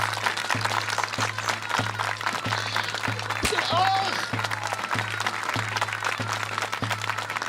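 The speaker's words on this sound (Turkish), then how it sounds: "Alkışlıyoruz" A crowd at a village headman's campaign event in a Turkish comedy film claps steadily and densely, with a rhythmic drum beat and a brief voice exclamation partway through.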